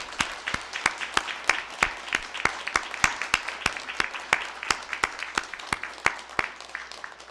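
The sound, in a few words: applause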